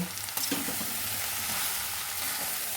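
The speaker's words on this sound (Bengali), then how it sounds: "আদাটা দিয়ে এইবার এটাকে একটু একটু খুন্তি দিয়ে নাড়বো" Ginger is stirred with a spatula in a hot pan while making veg momo filling. A steady sizzle runs under a few scraping stirs near the start, with no voices.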